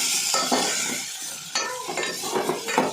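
Chopped ridge gourd goes into a hot pan for a spicy curry and is stirred, with a loud sizzle, scraping spoon strokes and clinks against the pan up close, and no talk.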